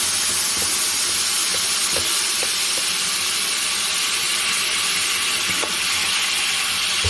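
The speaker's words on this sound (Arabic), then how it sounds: "هوطي بقى النار في الحته دي عشان الخل، هننزل عليها بشويه خل" Vinegar sizzles in a hot pan while the tempering for Egyptian fatta is made, a steady close frying hiss with a few faint clicks and no talk.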